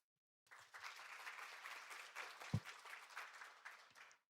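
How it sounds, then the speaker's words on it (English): Audience applause at an AI symposium opening ceremony, a steady round of clapping from a seated crowd lasting about four seconds, moderately distant, with one sharp thump partway through before fading out. "please join me in giving him another warm round of applause"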